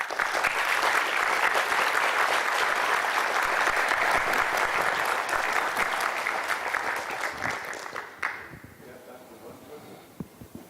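An audience at an academic talk on database theory at UC San Diego breaks into steady, dense clapping that lasts about eight seconds before fading into a few scattered claps.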